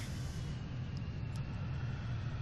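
Steady low rumble of VTOL aircraft engine thrust in the Kerbal Space Program video game, continuous and fairly faint, with a constant droning hum.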